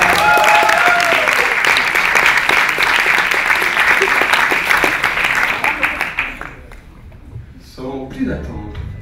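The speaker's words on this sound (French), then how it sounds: "On peut applaudir encore une fois." Loud audience applause at a stage show, thick continuous clapping for about six seconds that thins into scattered claps as a voice starts talking.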